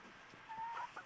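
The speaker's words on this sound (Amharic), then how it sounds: "የፈረንጅ ዶሮ ነው" Foreign-breed chicken clucking softly nearby, a few short low calls over a quiet background with no talk.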